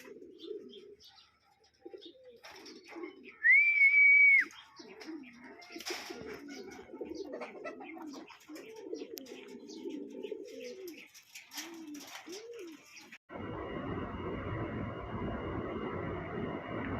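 Soft, repeated cooing of a pigeon close by amid rustling, with a brief high whistle early on and a steady hiss taking over at the end.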